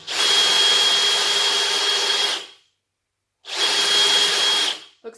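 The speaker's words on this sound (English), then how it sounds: "I'm going to tilt my drill bit." Power drill boring into a wooden table top for a chain stitch machine, two loud sustained bursts of drilling separated by a short silence, with no talk over it.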